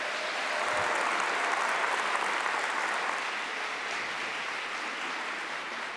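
Loud, sustained audience applause at a Catholic religious gathering, a dense wash of clapping continuing steadily from start to finish with no voices over it.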